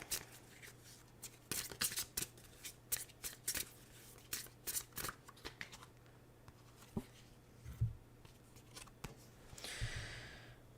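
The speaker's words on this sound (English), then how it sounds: "Let's pull a karma card for you." A karma card deck is shuffled and drawn up close, with quick papery riffles and flicks in uneven bursts, then a soft sliding rustle near the end, all quiet and intimate.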